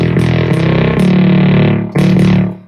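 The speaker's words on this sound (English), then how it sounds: "Like this thick bass." A thick, distorted electronic bass plays a few sustained, buzzy notes with short breaks between them, loud and rich in harmonics.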